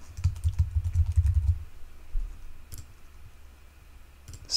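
Computer mouse clicks and keyboard typing while logging into a support website, a quick cluster of close, soft taps in the first two seconds, then a few isolated clicks amid quiet room tone.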